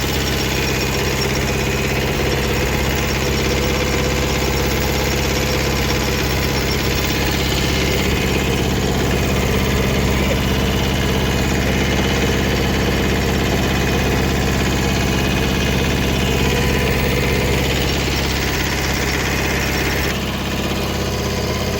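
A heavy tractor engine idles steadily and loudly for the whole stretch, a constant low rumble with mechanical vibration and no talking.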